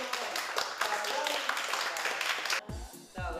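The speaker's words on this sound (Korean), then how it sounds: "자, 박수." Brief applause from a classroom of students in a coding lesson, a quick burst of scattered clapping that cuts off after a few seconds, followed by a voice speaking.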